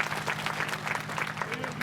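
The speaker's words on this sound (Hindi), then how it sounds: "आपने ताली बजाई" An audience at a religious gathering honoring a mahant bursts into sustained applause, a dense, continuous patter of many hands clapping for nearly two seconds.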